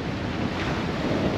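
Turbulent tidal water churns where the current changes direction, a continuous rough rushing and sloshing mixed with wind buffeting, steady and close with no voices.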